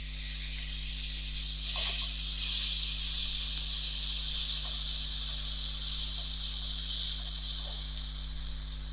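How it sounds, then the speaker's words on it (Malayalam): Grated raw mango sizzling as it is sautéed in a pan with turmeric and asafoetida, a steady close hiss with faint stirring taps, under a low constant hum. "ഇതിലേക്ക് ഗ്രേറ്റ് ചെയ്ത് വെച്ച മാങ്ങ ചേർത്ത് വഴറ്റും"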